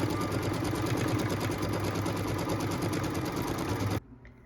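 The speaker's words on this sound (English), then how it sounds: "So what we're stitching right now is that outline that goes all the way around that square for us." A sewing machine stitches a square outline through fabric for quilting an apple trivet, running in a steady, close, continuous hum of rapid needle strokes for about four seconds before stopping abruptly.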